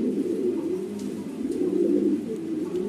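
Male Shoking breed pigeon cooing, repeated low throaty coos in a steady rolling rhythm, close and fairly loud with no talking.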